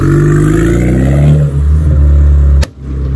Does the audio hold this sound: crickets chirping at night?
no